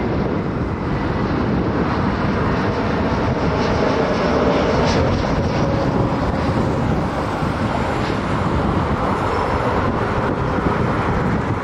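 Frontier Airlines airliner arriving at Cleveland Hopkins International Airport on a windy day, a steady, broad roar that holds at an even level for the whole stretch with no voices.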